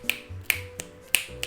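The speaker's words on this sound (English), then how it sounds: "The snapping instead of clapping." Crisp finger snaps used in place of clapping, five sharp clicks in an uneven rhythm, close and clear with no voices.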